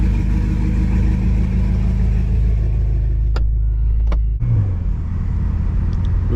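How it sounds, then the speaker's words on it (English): A straight-piped BMW F10 M5 with catless downpipes, resonator delete, a JB4 tune and race fuel rumbles loud and close with a deep, steady exhaust drone, then cuts sharply away near the end as the engine note drops. "Fully straight piped. Catless down pipes, resonator delete"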